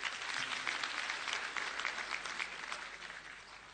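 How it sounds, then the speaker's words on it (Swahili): Audience applause at a live event, a dense, steady patter of many hands clapping at moderate distance that fades slightly toward the end, with no voices over it. "Pigieni makofi."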